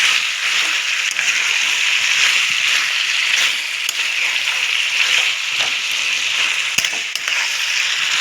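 Chicken pieces fry with papaya and potato in a pan, a steady loud sizzle with faint stirring scrapes and no talk.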